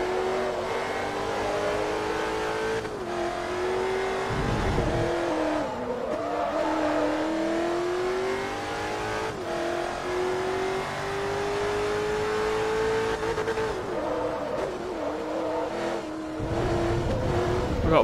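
Race cars roaring past in Forza Motorsport 3, including a Porsche, a McLaren and a Koenigsegg, engines loud and sustained with rising and falling revs and brief tire squeals across the whole stretch.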